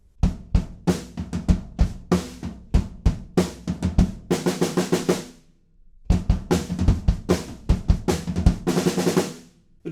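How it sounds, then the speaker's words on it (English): Drum kit playing a song's groove, with a short snare fill in place of the tom section, loud and close; sharp, rapid hits in a steady rhythm, a brief dropout near the middle, then dense snare rolls building back. "in the tom section at the end of that, we just have this little snare fill instead"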